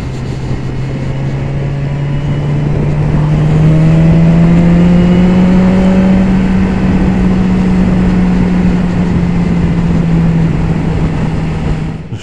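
A BMW S1000XR motorcycle engine drones steadily while riding, a loud sustained hum that rises slightly in pitch and then levels off, heard continuously under wind rush with no talking.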